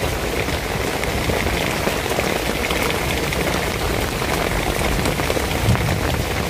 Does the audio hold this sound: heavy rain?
yes